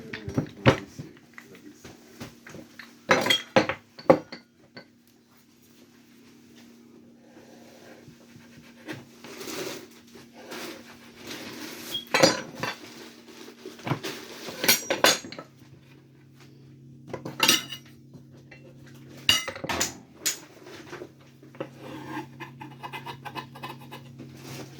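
A mixing bowl and utensils clink and scrape in irregular bursts while chin chin dough is worked in a home kitchen, with a steady low hum underneath and quiet pauses between handling.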